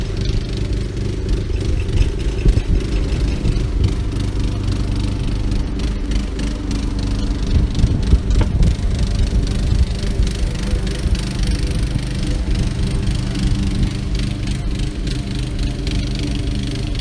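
Small engine cranking over on a starter while being checked for an intermittent spark at the coil and spark plug, a steady close mechanical churning that runs the whole time with no talk.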